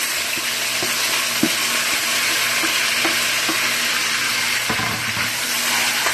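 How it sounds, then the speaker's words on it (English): Seasoning of tomatoes, peppers, scallion, garlic and onion frying in a hot pot for ackee and saltfish, a steady loud sizzle with occasional knocks and scrapes of stirring, no voices. "Turn down the fire a little bit and just fry up the seasoning."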